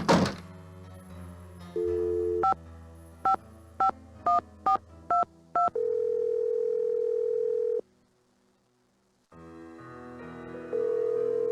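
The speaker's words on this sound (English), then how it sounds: "Go ahead and use the phone in the ticket booth." A telephone in a ticket booth in the Nancy Drew video game gives a dial tone, a rapid series of six evenly spaced keypad dialing beeps, then a long steady tone, a pause and a ringing tone.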